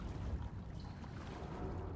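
Steady water washing and lapping in Alan Wake II, a broad continuous wash with a low rumble beneath it, moderately loud and uninterrupted; no voices.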